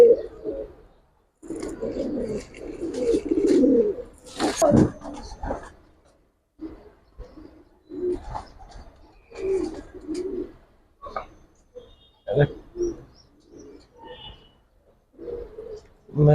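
Giribaz pigeons, including silver kaldom chuina birds, coo nearby in repeated throaty bursts separated by short pauses, with occasional human voices mixed in.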